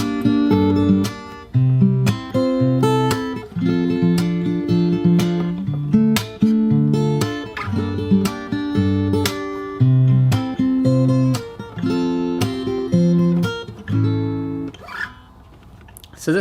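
Fingerstyle acoustic guitar plays the verse of a song, picking a repeating melody over a steady bass line. The strummed and plucked notes are loud and close, with no voice.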